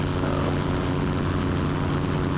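A seaplane's engine and propeller drone steadily in flight, a loud, constant buzzing roar heard from inside the cabin with no voices over it.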